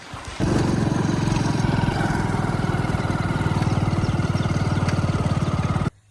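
A Honda Activa scooter engine runs steadily and close, a buzzing idle-like drone holding for about five seconds before cutting off abruptly, with no talk over it.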